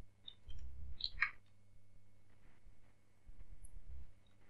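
Soft, sparse clicks from typing on a computer keyboard, coming in a few short bursts, quiet and close against a low background hum.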